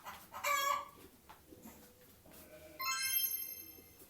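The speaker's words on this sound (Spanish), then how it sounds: "Un gallo." A farm rooster crows twice, two short, fairly faint cock-a-doodle-doo calls separated by a quiet gap.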